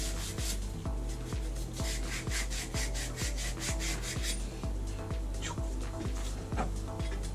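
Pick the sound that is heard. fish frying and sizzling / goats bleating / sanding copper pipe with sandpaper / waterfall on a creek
sanding copper pipe with sandpaper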